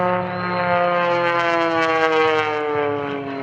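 A single-engine aerobatic airplane at an air show holds a loud, sustained tonal drone that swells and sways in pitch for a few seconds, with no talking.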